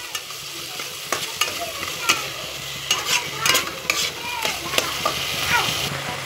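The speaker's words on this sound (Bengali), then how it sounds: "এখন এগুলাকে আমি আবার ভালো করে একটু ভাইজে নিব। একটু নাইড়ে চাইড়ে" A spice mixture fries in oil in a pan, a spatula scraping and tapping in irregular strokes over a steady low sizzle, close and fairly loud.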